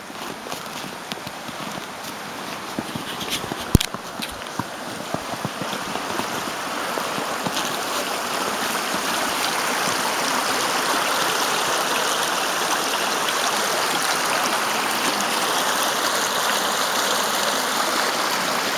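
A river near a campsite at Torres rushes with a steady, broadband flow, growing louder and fuller as it is approached, with a few footsteps and knocks early on and no talk.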